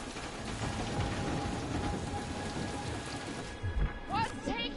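Steady rain with low thunder rumbles in a PS4 video game, broad hiss running throughout with a couple of deep booms near the end, while game voices talk over it.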